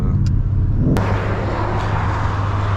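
Ford Mustang GT 5.0 Premium V8 driving on the road, a loud steady low engine drone with road rumble throughout, one sharp transient near the start, no talk.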